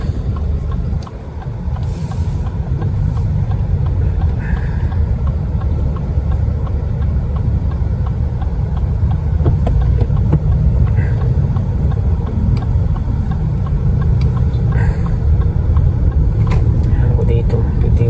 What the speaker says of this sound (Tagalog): Ito yung pinakaayaw ko dito sa BGC, sobrang traffic, busy.